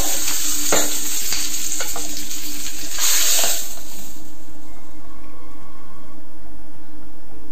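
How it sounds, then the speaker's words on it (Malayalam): Red chillies and curry leaves fry in hot oil for a Kerala tempering, a loud close crackling sizzle with bursts of spattering in the first few seconds before settling into a quieter steady fry, no voices. "ചുവന്ന മുളക് കറിവേപ്പില എല്ലാം വറവ് ചെയ്ത് എടുക്കാം നമുക്ക്"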